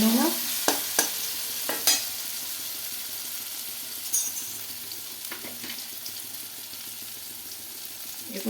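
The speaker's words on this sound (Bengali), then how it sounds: "নাড়িয়ে নেব।" Tomato, salt and turmeric powder are stirred in a frying pan while they sizzle for an egg curry, with a few spoon scrapes early on and then a steady low frying hiss.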